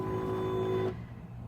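A weathered Silhouette Cameo cutting machine on a sturdy table runs with a PixScan mat loaded, giving a steady mechanical whir with tonal motor hum that cuts off abruptly about two-thirds through, leaving a faint low rumble.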